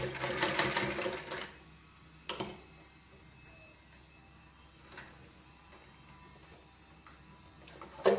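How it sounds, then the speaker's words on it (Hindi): A domestic sewing machine stitching a button placket on a girl's frock at home, running in a steady burst at the start, then quiet with occasional clicks and handling knocks. "और ये ऐसे सिलाई लगाई"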